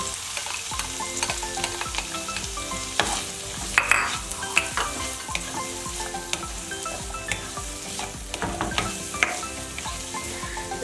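Two medium sliced onions sauté in butter and oil over a medium flame, a continuous close sizzle with scattered crackles and light clinks of stirring throughout, and nobody speaking.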